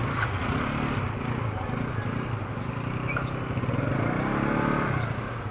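A heavy motorcycle engine idles and runs steadily in a parking area, a continuous low rumble that swells slightly toward the end, with faint voices underneath.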